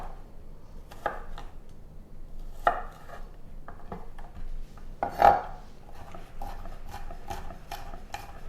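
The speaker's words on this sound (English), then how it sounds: "We'll go ahead and mince these up." Knife mincing food on a cutting board while preparing black-eyed peas and cornbread, a series of irregular, close chopping taps, some sharper and louder, with no talking.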